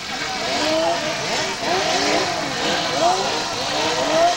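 Racing powerboat engines, Formula 500 and 0-700 class boats at a 1990 championship at Stewartby, warming up before the start; a layered, steady buzz of several engines revving together, with a voice talking over them.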